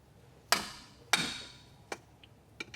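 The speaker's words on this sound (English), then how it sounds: "we're just going to pop a small hole in the top of the filter itself" A sharp screwdriver punches into the top of a Ferrari oil filter: two sharp metallic strikes, then a few lighter taps, close and isolated against quiet.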